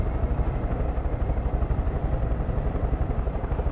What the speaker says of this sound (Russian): Все, вышли из пещерки на вертолете.